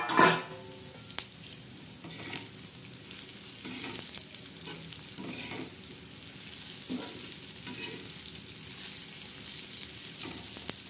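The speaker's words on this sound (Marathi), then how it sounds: "आता त्याच्यामध्ये धने आणि खडा मसाला टाकायचा आहे" Coriander seeds and whole spices frying in hot oil for a spicy fish curry masala, with a steady close sizzle and occasional stirring scrapes, no voices.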